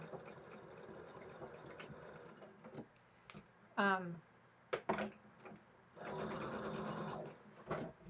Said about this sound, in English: You could just run a row of stitching like this right here to hold it down.